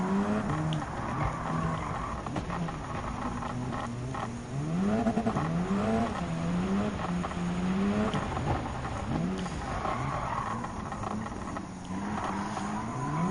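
Group B rally cars racing at Barcelona Rallycross in Gran Turismo 7, with engines revving up and down continuously, close and loud, plus tyre squeal and skidding as the cars fight for position.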